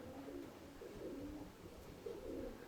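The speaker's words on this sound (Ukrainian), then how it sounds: "Голуби в небі." Pigeons coo in soft, repeated low phrases, a steady murmuring rhythm of several birds close by with faint outdoor hiss.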